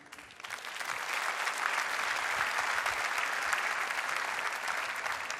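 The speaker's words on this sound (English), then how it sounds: "a round of applause" Sustained applause from an audience at the 2018 FIM MotoGP Awards ceremony, a dense, steady wash of clapping that swells in after a moment and holds at full volume throughout.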